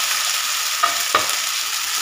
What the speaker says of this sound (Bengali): মশলাটা খুব ভালো করে একটু কষিয়ে নিতে হবে